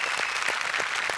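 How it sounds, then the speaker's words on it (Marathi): Brief burst of studio audience clapping on a Marathi comedy show as an actor is welcomed. The dense, even applause runs throughout at steady loudness with no speech over it. "सक्षम कुलकर्णीसाठी जोरदार टाळ्या झाल्या पाहिजेत."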